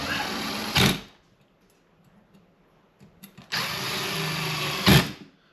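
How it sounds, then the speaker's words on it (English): A power driver runs Phillips screws into a 1940s kitchen light fixture, giving two close, loud whirring bursts separated by a quiet pause of a few seconds. "because these are Phillips, I can actually get them screwed in"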